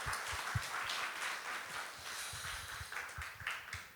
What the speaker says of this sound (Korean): 또 감사하며 박수하도록 하겠습니다